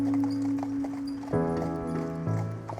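Lipizzaner horse hooves clip-clop on the ground at the Lipica Stud Farm, steady and fairly close, with a tonal hum running underneath.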